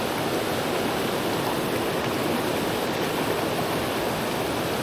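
Fast-flowing mountain creek water in the Great Smoky Mountains rushes in a loud, dense, continuous roar, close by and steady, with no voices over it.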